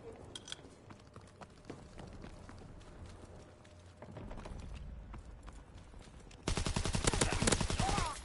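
A Sten gun fires in Call of Duty WW2, a rapid, loud automatic burst near the end following quieter, scattered mechanical clatter and distant shots.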